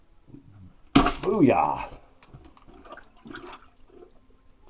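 A CO2-powered SurePlunge plunger set in a toilet trunk line fires with a sudden sharp burst, then a gurgling rush of water, and a voice exclaims right after.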